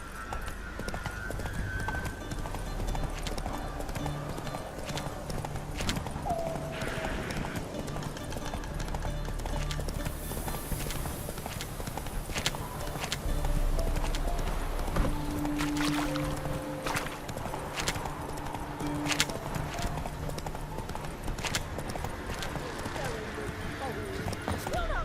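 Roach the horse gallops in The Witcher 3, with steady clip-clop hoofbeats running throughout under ambient game sound, a brief whinny-like tone and speech mixed in.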